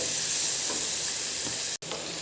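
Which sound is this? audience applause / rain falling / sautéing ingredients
sautéing ingredients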